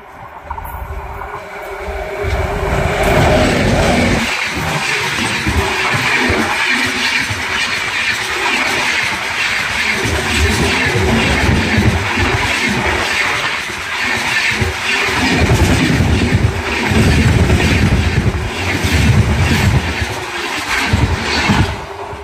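A superfast express train bound for Sri Ganganagar on the Delhi route rolls in loud and steady, its broad rumble and clattering wheels sustained throughout with no talk.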